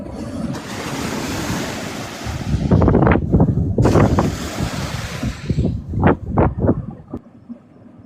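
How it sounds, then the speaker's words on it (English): Ocean surf at Navarre Beach, Florida, at sunrise: a continuous wash of breaking waves with wind buffeting the microphone, swelling in repeated surges and fading near the end. "I can't hear you over the waves"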